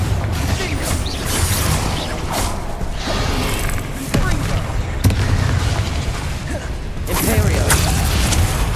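Confringo fire spell blasts in Hogwarts Legacy: loud, rumbling bursts and crackling impacts in quick succession, with sharp explosive hits punctuating steady combat noise.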